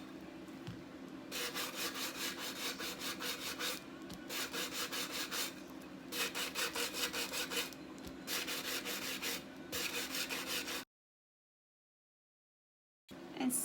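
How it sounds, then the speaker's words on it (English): Repeated rubbing strokes of sanding along a thin stainless steel rim at an angle, rhythmic rasping bursts in clusters with short pauses, ending in brief silence before one more stroke. "I want to sand this rim because I want to have a thin, clean edge. So I just sand it at an angle."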